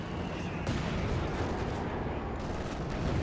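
Mortar fire and battle noise from the World War II strategy game Company of Heroes 2, with dense, rumbling booms and gunfire packed tightly together and loud throughout.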